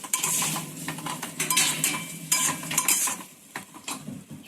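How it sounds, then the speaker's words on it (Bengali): Spice paste with rice flour and ground cumin being stirred into a hot pan, busy scraping and clinking of a spoon against metal over a light sizzle, close and steady for a few seconds. "জিরের গুঁড়োটাও দিয়ে দেবো সামান্য"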